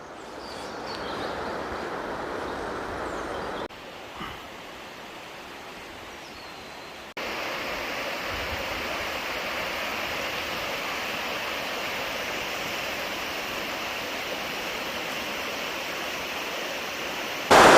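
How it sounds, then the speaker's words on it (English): The River Dart flowing through Hembury woods in Devon, a continuous broad rushing of water that drops briefly quieter midway, then returns steady and full, heard close with no talk. "There's the River Dart"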